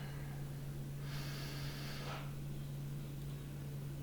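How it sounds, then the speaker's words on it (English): A single deep breath drawn in through the nose, close and soft, lasting about a second over a steady low electrical hum and hiss, with no talk. "another deep breath"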